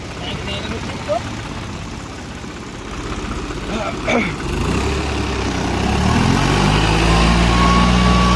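A New Holland 3630 tractor drives a rotavator through dry soil at high rpm, a steady low engine drone that builds and thickens toward the end, with a brief clatter partway through and no talk.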